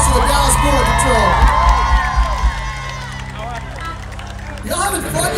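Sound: festival crowd applauding and cheering

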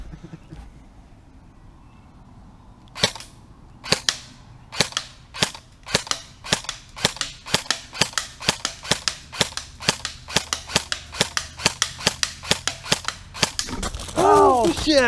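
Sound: airsoft gun firing BBs

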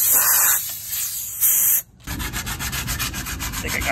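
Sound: hand sanding a wooden chair with 120 grit sandpaper

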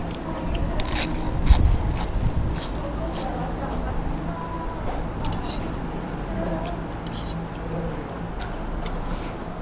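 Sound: biting and crunching crispy papaya salad

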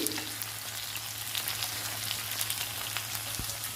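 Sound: eggplant (brinjal) frying and being turned in a pan

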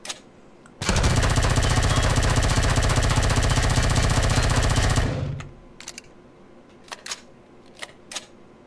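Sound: gunfire shooting a door in the video game Empyrion

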